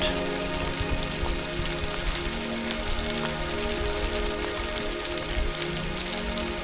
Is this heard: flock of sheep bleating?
no